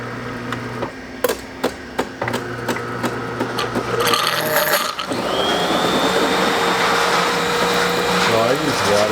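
Delonghi Perfecta espresso machine running its cappuccino function with water: a series of sharp clicks and knocks, then a loud, steady pump drone and hiss that holds to the end, close by, no talking.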